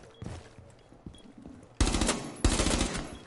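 Gunfire in the video game Rainbow Six Siege: two loud, dense bursts of automatic fire, each sustained for over half a second, rise abruptly over quieter in-game ambience.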